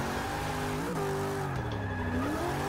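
Car drifting in Forza Motorsport 6, with high tire squeal sliding over a revving engine whose pitch dips and climbs through the slide, steady and loud without talk.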